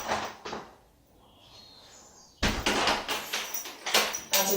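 A back door in a house under inspection, handled with a soft click early on, then a burst of louder knocks, rattles and bumps as it is worked for a couple of seconds, fairly close.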